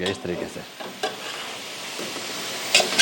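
Seekh kebabs coated in masala sizzle and fry in a pan while being stirred and turned, with steady frying crackle, scraping stirs, and brief speech at the start.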